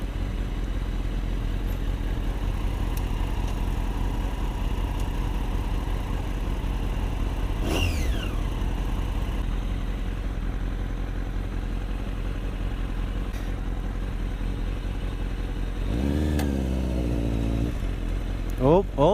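A superbike's engine runs steadily through most of the stretch, with one sharp rev rising and falling midway and a rougher throttle burst near the end, under loud wind and road noise.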